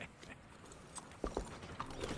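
Horse hooves in the video game Red Dead Redemption 2: faint, quiet clip-clop steps, a few irregular hoof knocks that cluster around the middle, with light tack and creaking noises under them and no talking.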